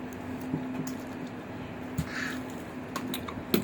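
Crows caw a few times at a middle distance over a steady outdoor hum, the short harsh calls spaced irregularly with no one talking.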